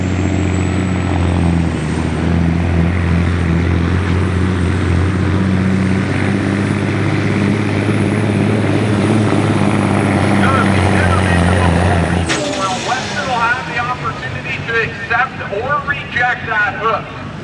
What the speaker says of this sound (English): Looks like we got the green flag for Weston Martin from Everton, 1987 Peterbilt.